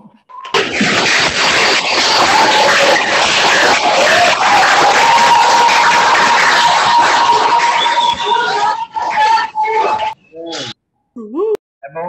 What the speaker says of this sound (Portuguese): É bom escutar aplauso de novo